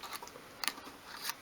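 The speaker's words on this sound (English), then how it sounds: "What I'm going to do is actually tear that bit of paper like that" Paper torn by hand while decorating a 1/12th scale miniature garden shed, heard as short crackly rips with two sharper bursts, close and fairly quiet, no voices.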